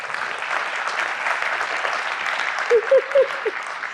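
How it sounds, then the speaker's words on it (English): A conference audience gives sustained applause, a dense steady wash of many hands clapping at moderate distance, with a few brief voices or whoops near the end. "Round of applause to them for their fantastic talk the other day."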